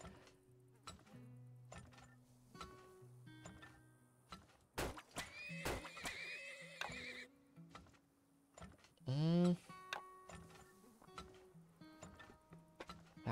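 Horses in the Turmoil video game give several sharp whinnies between clip-clop hooves, clinks and thunks from the game, all fairly quiet, with a person talking softly in parts.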